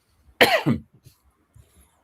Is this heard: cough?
yes